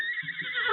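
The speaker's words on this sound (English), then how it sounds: "The intelligent stallion pawed the ground restlessly and gave a warning whinny." A brief, bright horse whinny used as a sound effect in a 1950 Lone Ranger radio drama, loud and close, heard alone.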